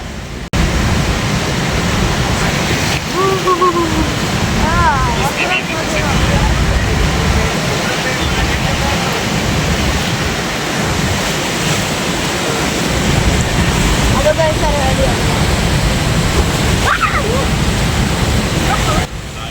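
Rhine Falls in Switzerland, Europe's largest waterfall, roars as a loud, continuous broadband rush heard from a boat nearby, with people talking faintly over the steady wash of water.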